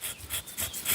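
Thick bark on a large local durian tree being thinned by scraping, a close, rhythmic rasping with about five quick back-and-forth strokes in one second.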